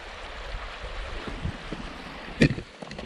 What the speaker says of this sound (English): A bubbling brook.